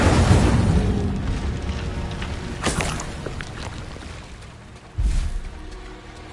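Incendio fire spell cast in Hogwarts Legacy, a rushing whoosh of flame that starts loud and fades gradually, with a second sharp burst near the end.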